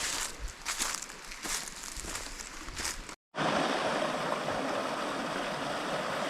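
Water of a stream flowing along a bank while mushroom foraging in woodland, a continuous broad rushing wash that cuts out briefly midway and returns louder and steadier.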